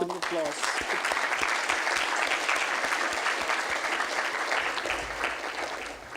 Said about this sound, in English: Please join me to congratulate them and to give them a big round of applause.